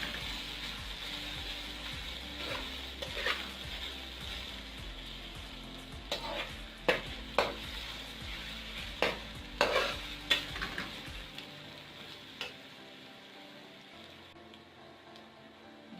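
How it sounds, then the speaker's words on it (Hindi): Garlic and ginger paste frying with golden onions in a pan for chicken karela, a steady close sizzle with sharp stirring scrapes and clatters through the middle, easing off toward the end. "लहसुन और अदरक को भी हम हल्का सा फ्राई करेंगे"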